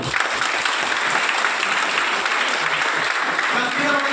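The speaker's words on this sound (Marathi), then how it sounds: "सगळे जोरदार एकदा टाळ्या वाजवा" Audience at a student political rally applauds loudly, dense continuous clapping from a large crowd filling the whole stretch, no speech over it.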